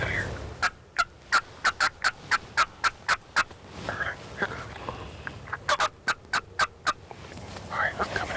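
A wild turkey gobbles in the field, delivering a rapid series of sharp repeated calls in two bursts, fairly close, with quiet outdoor ambience between.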